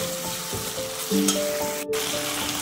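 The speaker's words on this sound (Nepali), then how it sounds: "अब चाहिँ हामीले जिन्जर गार्लिक पेस्ट लगाएको" Ginger garlic paste frying for a pork and capsicum curry, a steady close sizzle with soft stirring scrapes and a brief sharp clatter.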